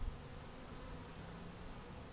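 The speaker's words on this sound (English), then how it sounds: "there's too many bees there right now" Honey bees swarm around an open hive during an inspection, a dense, steady buzzing drone that fills the space evenly and close by, with no voices over it.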